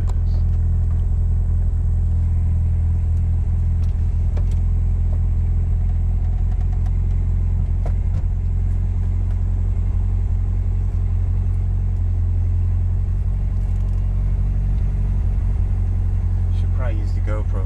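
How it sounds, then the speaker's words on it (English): A Mitsubishi Evo's steady low engine rumble and road noise fill the cabin throughout, smooth and continuous, with a few faint clicks and creaks. "for a ride in my car so you can see how smooth it is"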